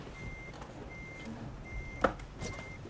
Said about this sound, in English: Normal reversing sounds.